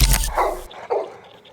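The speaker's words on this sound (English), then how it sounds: "My dogs are focused on him and they're barking." Cane Corso dogs let out two deep, loud barks close by, aimed at a stranger passing, a quick pair with a short gap between them.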